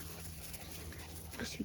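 A puppy whimpers faintly in a quiet room with soft background hum, and a couple of brief high yelps come near the end.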